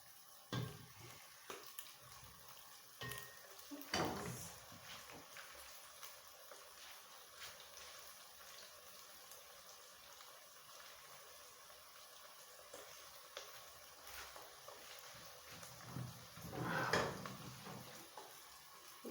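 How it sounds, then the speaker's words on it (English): Beef fried rice frying in a pan as rice is added, a faint steady sizzle with occasional scraping and stirring bursts, quiet and close. "Just put my rice on top."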